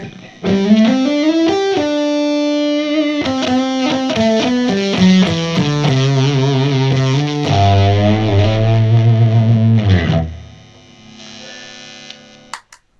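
Distorted electric guitar with P90 pickups through an overdrive pedal playing loud, sustained chords and riffs with a thick overdriven tone, ringing out and then cut off, leaving faint hum.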